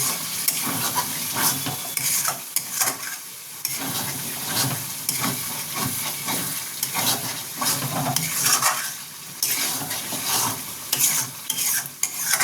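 Mutton bhuna with green chilli simmers in a pot as a spoon stirs it. Rough scraping strokes come in an uneven rhythm over a constant close sizzle.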